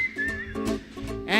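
Musical whistling carries a sung melody, a loud, clear whistled line sliding and holding notes over instrumental accompaniment, with a sharp rising flourish at the end.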